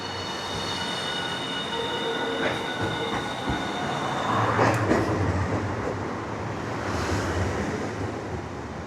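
A tram in Hiroshima rumbles and pulls away with a faint wheel squeal and a low hum of traction, steady and moderately near, with no voices.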